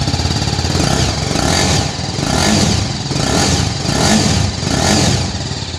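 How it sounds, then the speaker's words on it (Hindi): Exhaust note of a BMW G310 RR motorcycle, a loud, close, continuous rumble that swells and dips in repeated revs of about a second each, with no voices over it. "तो चलिए अब मैं आपको इसके एग्जॉस्ट के साउंड को चेकआउट करा देता हूँ"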